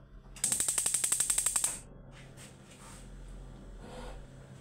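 A gas stove burner under a pot is lit: a rapid run of about a dozen sharp igniter clicks, then a quieter steady hiss and hum of the flame.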